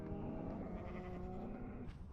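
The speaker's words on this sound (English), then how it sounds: "what are all these cows doing here?" Cows in modded Minecraft let out a close, drawn-out lowing call that wavers in pitch over a couple of seconds, with no talking.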